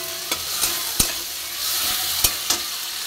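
Ingredients frying in a pan over a high gas flame, a steady bright sizzle with a few sharp clinks and stirring knocks of a utensil against the pan, close and continuous, with no talking.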